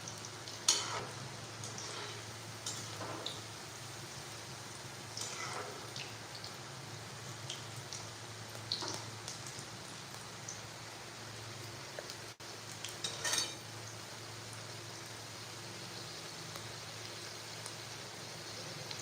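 Onion bhaji batter, soft salted onion in gram-flour dough, frying in oil in a kadhai, with a steady low sizzle throughout and occasional brighter crackles and stirring scrapes; no talking.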